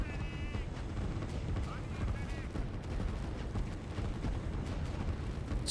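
Continuous artillery and infantry fire from a Line War match, a dense unbroken rumble of guns and distant blasts with faint tonal game cues, under a commentator's talk.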